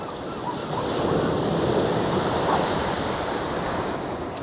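Surf waves break on a beach during a fishing competition, a loud continuous wash and roar swelling and easing, with wind buffeting the microphone and no talk.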